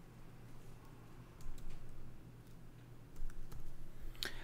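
Faint typing on a computer keyboard, a few scattered key clicks in short bursts over a quiet low hum, entering an authentication key.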